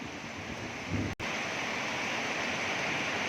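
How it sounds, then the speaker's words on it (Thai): Heavy rain pours down in a dense, constant hiss, broken by one brief dropout, with no one speaking. "ยังไม่หยุดนะครับยังฝนฝนตกไปเรื่อย ๆนะครับ"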